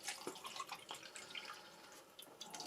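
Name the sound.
liquid poured into a Polish combat ration pouch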